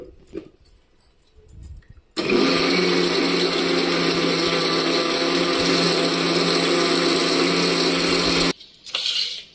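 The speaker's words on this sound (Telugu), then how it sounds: "ఇంకొకసారి మిక్సీ వేసుకుందాం." A kitchen mixer grinder blends a ghee-based mixture with a loud, steady whirring roar for about six seconds. It starts abruptly and stops abruptly, with quiet room sound before and after.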